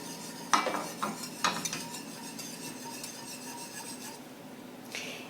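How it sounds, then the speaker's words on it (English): Roux being stirred into tomato sauce with tomato paste in a pot, a few scraping, rasping strokes near the start, then softer, quieter rubbing as the sauce settles; close and fairly faint. "And stir."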